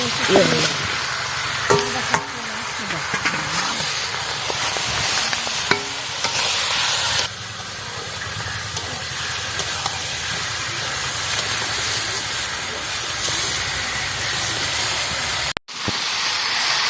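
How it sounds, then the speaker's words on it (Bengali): Chicken curry with tomato being sautéed and stirred in a kadai, a steady close sizzle and hiss with scraping stirs, continuous throughout before a brief cut near the end. "এবার কড়াইতে কষে নেবো"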